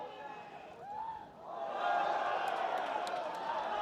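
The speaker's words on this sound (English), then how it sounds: "Crowd doesn't like it." A crowd at a college men's soccer match between Maryland and Pitt swells into a loud, sustained groan of disapproval, distant and broad, with a commentator talking over it.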